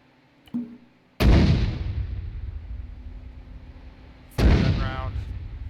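Mortar rounds fired in ArmA 3: after a faint click, two loud, deep launch booms come about three seconds apart, each trailing into a long rumbling decay, with a voice speaking in between.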